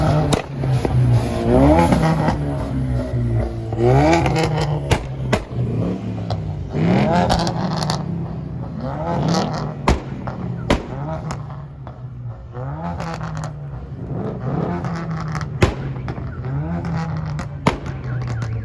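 A Toyota Supra's 2JZ engine revs hard on a two-step launch limiter at a car meet competition, with loud repeated backfire pops and cracks over a constant roaring engine and crowd noise, close and continuous.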